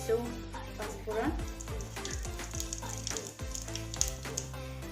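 Panch phoron spices hitting hot oil for a pointed gourd gravy, a steady sizzle and crackle with clinks of a spoon stirring in the pan, close and fairly loud.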